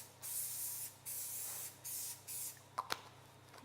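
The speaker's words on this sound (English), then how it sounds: "Just got an olive oil spray." An olive oil spray can hisses in short repeated bursts over food before it goes into the oven, four quick sprays with small pauses, followed by a couple of light clicks.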